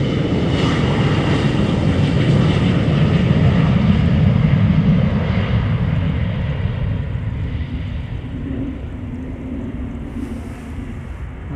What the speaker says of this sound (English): Next airplane to take off will be an E2 Embraer 195 to Göteborg.